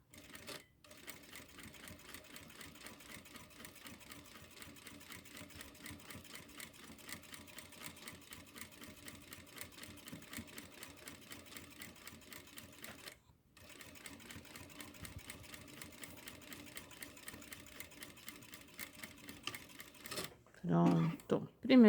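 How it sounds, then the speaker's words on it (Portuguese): A sewing machine stitches patchwork at a steady, even pace, its rapid mechanical rattle running continuously with one brief stop midway before it resumes, and a few louder clicks at the end. "E venho costurando, olha, como o ponto tá grande, se você vier muito depressa, você perde o controle."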